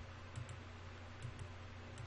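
Faint computer keyboard keys clicking in a few scattered, light taps over a low steady hum, close to the microphone, with no voices.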